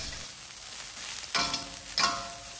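Nasi goreng with petai stir-fried over a high flame, a steady loud sizzle with two sharp bursts of hissing and scraping as ingredients are tossed in the hot pan.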